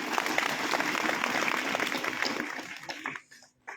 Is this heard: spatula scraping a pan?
no